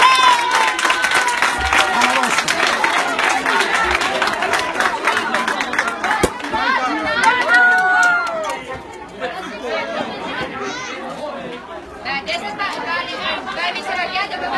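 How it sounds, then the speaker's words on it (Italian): A crowd claps for several seconds at a live birthday surprise for a fan turning eighteen, then the applause fades into lively chatter, cheering and voices talking nearby. "Facciamo un applauso."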